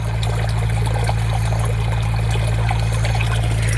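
Water gushes steadily from a newly drilled village borewell into a small tank, a continuous close pouring rush with a low pump-like hum underneath throughout.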